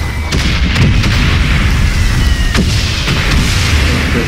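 Gunfire and artillery booms in the World War I video game Valiant Hearts: The Great War, with several sharp loud shots over a constant dense rumble of battle, close and continuous.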